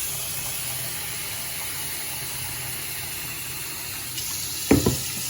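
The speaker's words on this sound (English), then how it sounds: "So we added some water." Water running steadily from a tap into a pot of rice being washed, a continuous rushing pour with a brief splash near the end.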